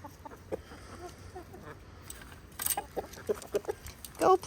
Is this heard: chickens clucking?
yes